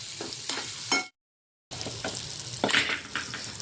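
Green chillies frying in a pan, a steady close sizzle broken by scraping stirs. It cuts out briefly in the middle, then returns with a louder hiss and clatter.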